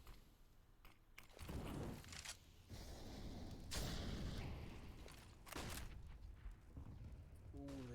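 Grenade explosion in a competitive first-person shooter match, heard among several booming blasts and thuds across a busy stretch of gunfire, with a caster talking over the action.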